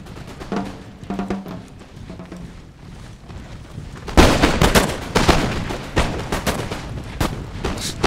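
Musket volleys crack and boom through a Napoleon Total War multiplayer battle, starting as scattered distant shots and swelling into louder, dense rolling fire layered over a windy background.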